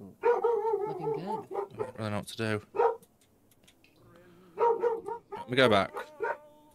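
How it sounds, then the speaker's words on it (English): A nearby dog barks in short bursts that break in among a man's speech, sometimes overlapping his talk and sometimes standing out in the gaps. "I wish this fucking dog would just shut up"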